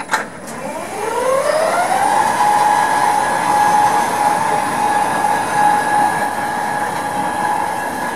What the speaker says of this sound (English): These are climbing lifts, so the motor is actually on top of the lift, climbing lift up a rack and pinion system.